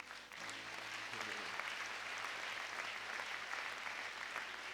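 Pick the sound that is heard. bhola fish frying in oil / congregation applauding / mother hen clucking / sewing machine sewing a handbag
congregation applauding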